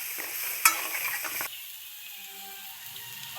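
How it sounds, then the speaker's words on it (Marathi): Ground spice masala roasting in hot oil for a spicy mutton-masala chicken gravy, a close crackling sizzle with a sharp clank early on, then quieter simmering with faint background noise and no talk. "आता मसाला तेलात भाजायचा बघा. चांगला तेलात फ्राय करायचं आपल्याला."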